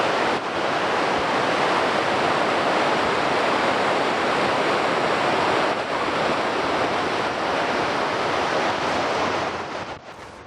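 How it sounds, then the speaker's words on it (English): Rushing water of the Simpson River heard up close as a loud, steady broadband roar, with Surprise Creek flowing in nearby along a mountain trail; the roar continues unbroken and fades slightly at the very end. "this is Simpson River in the foreground, and that's Surprise Creek over to the right"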